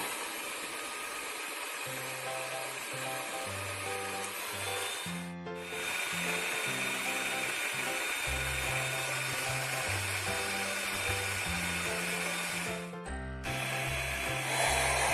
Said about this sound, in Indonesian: Kita mixer dengan kecepatan tinggi hingga adonan kental dan mengembang.